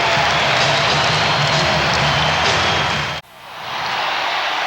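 A capacity crowd at a 1997 NBA playoff basketball game in Chicago roars in a loud, sustained wall of cheering and applause that cuts off abruptly, then swells back in more faintly.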